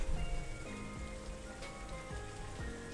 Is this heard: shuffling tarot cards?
no